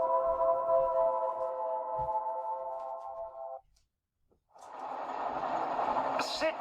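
A moving train hums with a steady tonal drone, breaks off into brief silence, then returns as a broad rushing rumble of rolling cars, with a voice speaking briefly.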